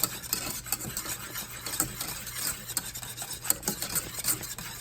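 Spoon stirring a thickening salad dressing in a pot over heat at a light boil, a steady close scraping and rubbing with faint bubbling, no voices.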